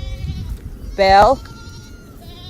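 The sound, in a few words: baby goat bleating on a farm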